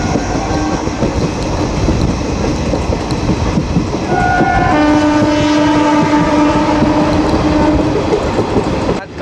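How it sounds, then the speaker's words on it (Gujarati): A passenger train running from Rajkot to Porbandar rumbles past loudly and close, wheels clattering steadily, with a long sustained horn blast sounding through the middle of the passage. "ટ્રેન નીકળી ચૂકી છે રાજકોટથી."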